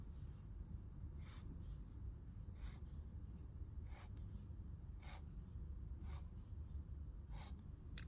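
A Sailor fude-nib fountain pen scratches across paper at its broadest stroke, leaving faint, soft rasps in short repeated bursts over a low steady background hiss.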